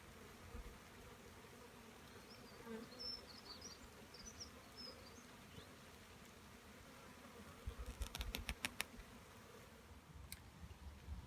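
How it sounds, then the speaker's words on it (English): An agitated honeybee swarm hums in a soft, continuous buzz as the bees are closed up for the move to a new Sun Hive, with a brief burst of handling clicks and rustling near the end. "I can sense the bees are getting a little bit agitated by this"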